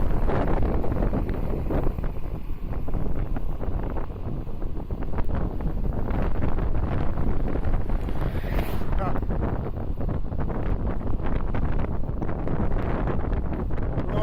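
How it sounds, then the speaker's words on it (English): Strong wind roars and buffets the microphone continuously during a fast e-scooter ride on an Eahora Tiger Max, loud and unbroken, with a voice faintly mixed in. "Wind is crazy out here."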